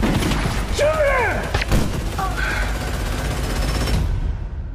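Gunfire and battle effects from a 2021 TV series trailer, with loud bursts and booms layered under dramatic music and swooshing effects, dense and continuous throughout.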